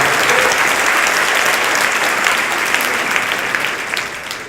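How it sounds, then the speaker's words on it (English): Loud, sustained applause fills a comedy show venue, a dense wash of many clapping hands up close that holds steady before easing slightly at the end. "Give them a big round of applause."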